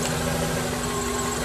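A car engine idles steadily at about 700 RPM during a cylinder balance test. The low hum and vibration run evenly and continuously throughout.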